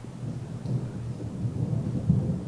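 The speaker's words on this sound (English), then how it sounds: "I can hear the thunder." Deep, continuous thunder rumbles through a rainstorm heard from inside an abandoned house, a steady low roll that swells slightly near the end, with no voices.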